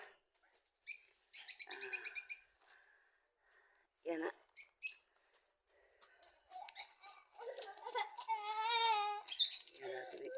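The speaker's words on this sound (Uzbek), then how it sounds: "Mana qushimiz sayrashini qaranglar." A pet bird sings at home in bright, repeated chirps and warbling trills, close and fairly loud, with short gaps between phrases and a voice faintly present alongside.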